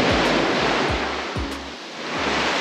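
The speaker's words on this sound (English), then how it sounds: "Natural beach." Surf rolling onto a natural beach in Martinique, loud continuous wash of breaking waves with rhythmic low surges every half second or so and some wind on the microphone.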